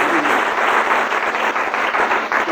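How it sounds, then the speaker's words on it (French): Congregation in a church service applauding together, a dense, steady wash of many hands clapping that holds throughout without a break. "Le peuple de Dieu acclame la parole."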